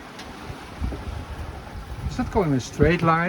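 A sailboat on the ocean rolls through waves while wind rushes over the microphone and water washes past the hull, with someone talking over the steady noise.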